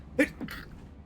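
A single quick sneeze bursts out near the microphone, followed by a softer breathy tail against a quiet room.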